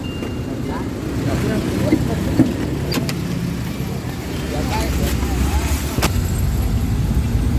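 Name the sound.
riding inside an angkot minibus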